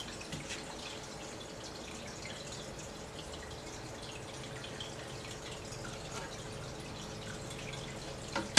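Water trickles and drips steadily into a small 5-gallon planted aquarium tank, a faint continuous wash with light splashy drips throughout.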